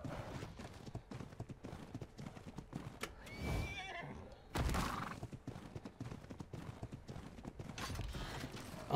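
A horse in the video game Ark neighing and clip-clopping its hooves, rapid hoofbeats running under loud whinnies in the middle, with scattered gunfire-like bursts and no talk.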